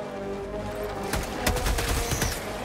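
Rapid bursts of gunfire in Helldivers 2 as a squad shoots at giant bugs, loud overlapping shots crackling over a steady low game rumble, with sharp cracks clustered in a dense volley.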